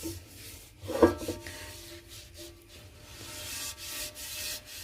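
Soft rubbing and scraping of oil being worked into a cast iron pan, with one brief clank early on, then continuous friction strokes, close up and fairly quiet.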